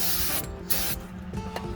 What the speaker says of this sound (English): I just sit the rotor up here and I spray it down real good